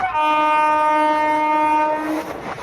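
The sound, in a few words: express train slowing down on the rails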